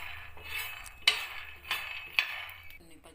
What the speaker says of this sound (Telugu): ముందుగా ప్యాన్ పెట్టుకొని పల్లీలు దూరగా వేపుకోవాలి